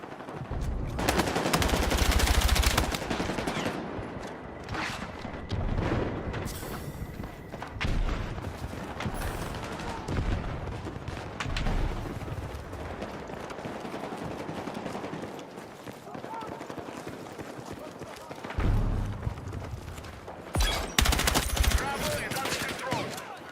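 Enemy gunfire in Battlefield 6 crackles in repeated bursts, loud automatic fire and scattered shots mixed with game noise, with players talking and shouting throughout.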